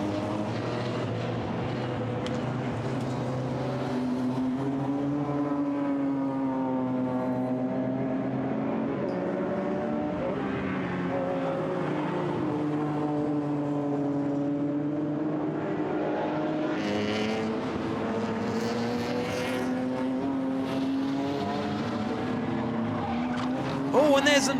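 BMW M3 GTR race cars roar around the Zandvoort circuit, engines rising and falling in pitch as they pass and shift, loud and continuous, while a commentator talks over them throughout.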